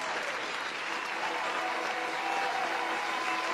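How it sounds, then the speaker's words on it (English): A crowd of audience members applauds steadily, a dense and continuous clapping that stays loud throughout. "Give her a round of applause, ladies and gentlemen."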